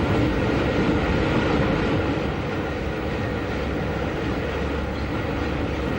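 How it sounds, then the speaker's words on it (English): A train runs across the Ouse Valley Viaduct on the Brighton line in Southern England, giving a steady, continuous rumble at constant loudness with no voices. "The train crosses over one of the great engineering features of the Brighton line, the Ouse Valley Viaduct"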